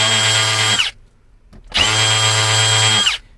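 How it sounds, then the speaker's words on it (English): A power drill boring holes into wood for a Mercedes S500 W140 VIP tray install: two loud, steady whining runs of about a second each, near, separated by a short quiet pause. "Now we can drill them out."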